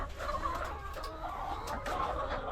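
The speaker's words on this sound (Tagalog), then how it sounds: "nandyan na yung mga manok ko" Chickens cluck nearby, a busy overlapping chatter of short calls with some sharper notes.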